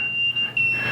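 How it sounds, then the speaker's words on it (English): A NOCO Gen 5x3 battery charger on a bass boat: a steady high electronic tone sounds throughout the second, with short beeps breaking in over a low background hum. "she's coming back alive, beeping like crazy over here"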